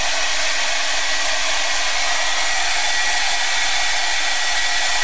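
A hair dryer blows in a steady, loud, continuous rush of air for the whole stretch, with no voices over it.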